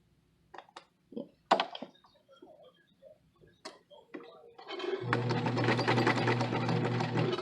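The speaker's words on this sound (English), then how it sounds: "I'm just going to back stitch the area where I know that stitch should end now" A home sewing machine back stitching a seam on pants: scattered soft clicks and taps of setup, then a steady close motor whir with a rapid needle rhythm for the last few seconds.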